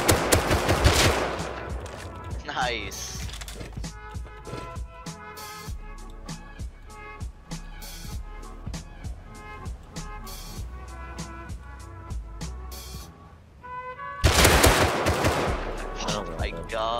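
Gunfire in the video game Rust: rapid automatic bursts and single sharp shots ring out over a steady hum, with louder heavy volleys at the start and near the end. Someone speaks briefly.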